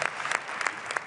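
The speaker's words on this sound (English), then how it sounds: "Thanks for your encouragement, for your support, for your applause." Audience applause at a FIFA congress gathering, a brief burst of scattered clapping from a crowd.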